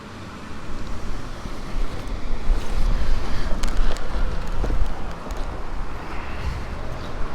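Strong wind buffets the microphone during a rally stage, a loud, continuous low rumble with gusting surges throughout and no talk.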